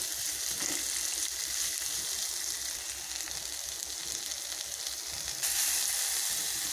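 Broad beans (avarakkai) sautéing in a hot pan give a steady, loud broadband sizzle that runs unbroken throughout, swelling slightly louder near the end, with no voices.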